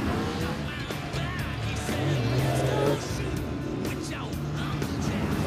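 A turbocharged 250 Crossflow engine in a modified 1977 Toyota FJ40 Land Cruiser rumbles and revs nearby, rising and falling in pitch, with faint talking mixed in.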